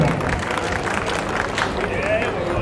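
A crowd at a temple felicitation ceremony gives a short, brisk round of applause, many hands clapping at once in a dense, even patter, with a faint hum of voices in the background.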